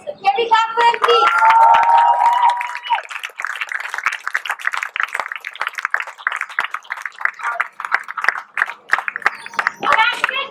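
An audience claps for the cast after a stage production of Ayn Rand's play Night of January 16th, with scattered applause under cheering and voices, rising and dipping in uneven bursts.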